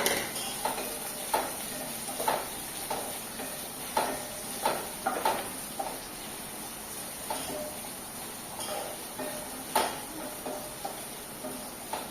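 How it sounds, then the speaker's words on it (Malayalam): Sliced onions and green chillies sautéing in a pan after mustard seeds pop, a soft sizzle punctuated by a regular series of spatula scrapes and taps, no voices. "നമുക്ക് സവാളയും പച്ചമുളകും നല്ലോണം വഴണ്ട് വരുന്ന വരെ വെയിറ്റ് ചെയ്യാം"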